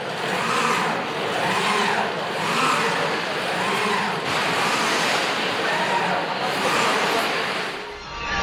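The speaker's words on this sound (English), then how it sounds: "powerful artificial waves are generated to test ships and offshore technology" Powerful artificial waves surge through a deep ocean basin test tank at a facility near Cork, Ireland, a loud continuous roar of churning water with rhythmic swells every second or so.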